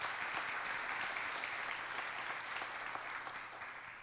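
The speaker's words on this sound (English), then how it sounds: "let's give them a big round of applause for that work" An audience at a county education event gives a sustained round of applause, a dense, even wash of many hands clapping at moderate distance, fading slightly at the end.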